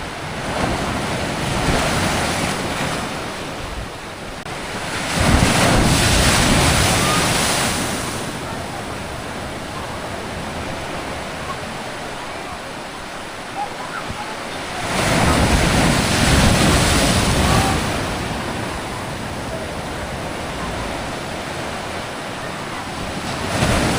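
Sea waves break at Mandarmani beach, a loud, broad wash of surf swelling and receding in slow surges under steady wind buffeting the microphone, with no voices.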